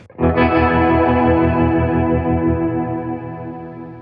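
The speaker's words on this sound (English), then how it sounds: "you hear the tremolo kind of throbbing away, but it's a little bit in the background" A Fender effects pedal sets a guitar chord throbbing with steady tremolo pulses, washed in reverb that fills the gaps between beats. The chord rings loud and alone, then slowly fades.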